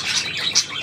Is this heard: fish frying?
no